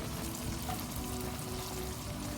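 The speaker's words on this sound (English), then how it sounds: "just a few drops of oil, and we'll just pan fry it basically" Bread pan fries in a few drops of oil, a dense, steady sizzle and crackle close by that continues without pause.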